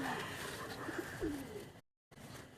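Pigeons coo softly on a rooftop, low repeated calls over faint background noise, briefly cut off near the end.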